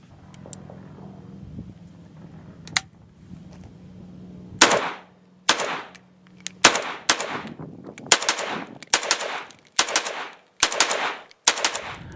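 Centerfire rifle shots crack out in a loose string of about nine sharp, loud reports after a quiet opening with a low hum, each followed by a short echo.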